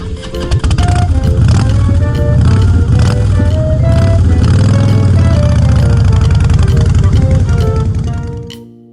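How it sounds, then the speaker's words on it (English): A motorcycle engine drones loudly and steadily with a low, shifting rumble, layered with a tonal melody, and fades out at the end. "Motorcycle."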